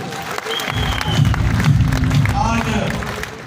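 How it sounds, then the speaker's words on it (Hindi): Crowd applause at a network marketing and direct selling event in a hall, with clapping and some cheering under a loud voice on a microphone and booming low background music. "जोरदार तालियां सिन्हा जी के लिए।"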